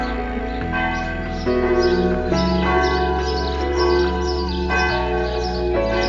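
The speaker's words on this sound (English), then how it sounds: "The bells of the small church do not ring for us or for a wedding couple, but to activate the small congregation." Small village church bells ring steadily in the Templin Schorfheide area, with overlapping chimes that strike again and again and a sustained, resonant hum, loud and close with no voices.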